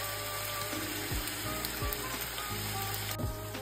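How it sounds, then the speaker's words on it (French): Aubergines go back into a pan of sizzling peanut, garlic, chili and ginger mixture, a steady close frying hiss with occasional soft stirring bumps and pops. "On vient replonger les aubergines dans toute cette mixture."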